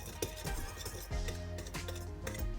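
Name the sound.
stirring sugar into the mixture in a bowl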